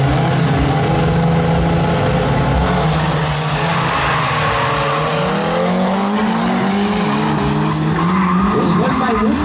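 Turbocharged VW Gol and Voyage drag cars launch together at a Brazilian drag racing event, tires screeching and engines screaming loud and continuous for several seconds, with an announcer talking over the roar.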